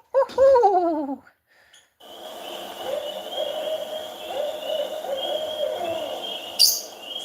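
A barred owl's wavering, hooting call rises and falls for about a second, loud and close, then gives way to a steady background of insects and distant birdsong.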